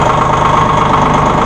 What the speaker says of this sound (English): This is a nice three-cylinder Shibaru engine, and remember, you don't have any diesel particulate filter to worry about.